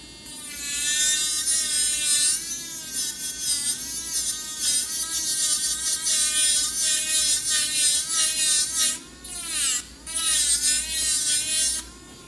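Electric nail drill filing down the raised tip of a polygel nail during maintenance, a continuous high-pitched whine whose pitch wavers as pressure changes, steady and close throughout with a couple of short dips.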